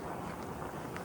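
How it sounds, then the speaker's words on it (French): Strong wind blasts against the microphone during a heavy Toronto snowstorm, a dense, roaring buffeting rumble with no pause. "c'est surtout le vent en fait."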